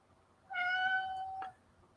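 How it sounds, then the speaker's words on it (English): A house cat gives a single clear meow lasting about a second indoors, close but fairly soft against a quiet background, with no one speaking. "My wife's cat's in here now."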